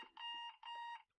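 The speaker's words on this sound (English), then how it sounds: "Sorry, that's my alarm again." An alarm clock goes off with two sustained electronic beeping tones, each lasting about a third of a second, separated by a short gap. The sound is faint and heard alone.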